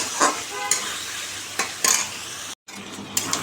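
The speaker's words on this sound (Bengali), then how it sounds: "এখন মাংসটা দিয়ে দিলাম এবার আমি কষাবো মশলাটা সব দেওয়া হয়ে গেছে" Meat frying in a pan with spices while being stirred, a steady sizzle broken by several scraping strokes of a spatula against the pan, heard close up with no talking.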